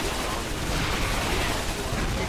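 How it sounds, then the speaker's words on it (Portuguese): Orbital fire raining down in a StarCraft 2 mutation mission, heard as a dense, continuous crackle of gunfire and blasts, steady and loud throughout with no voices. "tá vindo alguns tiros do espaço pra ajudar no ataque"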